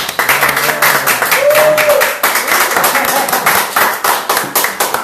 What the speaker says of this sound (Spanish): Vamos a darle una bienvenida a Carlos Conde con un fuerte aplauso, quiero que todos me ayuden, por favor.